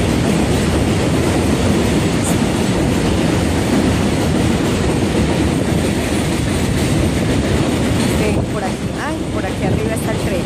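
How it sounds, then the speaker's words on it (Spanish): A train passes close by, a loud, continuous rumbling roar with steady rail clatter that stays heavy throughout and eases slightly near the end. "Viene el tren y creo que va a quedar con mucho ruido."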